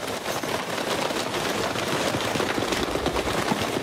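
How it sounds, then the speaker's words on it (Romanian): Rain falling steadily outdoors, a dense, continuous hiss of drops across a broad band, loud and unbroken throughout with no voices. "Poftiți și ascultați picăturile de ploaie."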